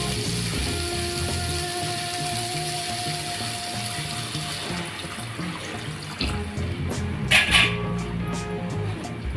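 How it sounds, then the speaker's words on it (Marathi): Water poured steadily into a pot of Maharashtrian colocasia-leaf curry with potato and field beans, a continuous close rushing splash lasting the whole stretch, with no one talking. "आता आपण यात पाणी टाकणार आहोत"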